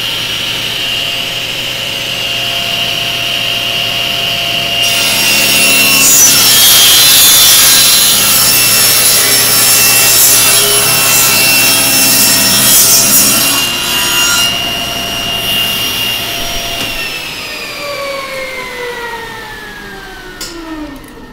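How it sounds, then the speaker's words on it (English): A saw cuts through wood with a loud, steady rasping drone that stops near the end, leaving a motor winding down. "start sawing"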